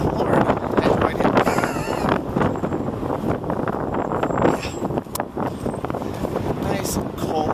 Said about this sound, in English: Okay, it's just a little windy.